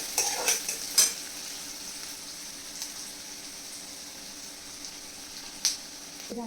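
Onion with curry leaves sautéing in a pan for a wheat curl vegetable dish, a soft steady sizzle with a few close utensil scrapes and clinks near the start and one later, no talk.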